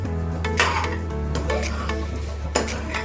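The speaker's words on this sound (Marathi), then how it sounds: "साखर टाकून आता परतून घेऊया पुन्हा." Sheera is stirred with sugar in a pan, with a spoon scraping and clinking against the metal in irregular strokes over a low steady hum, close and fairly loud, with no voices.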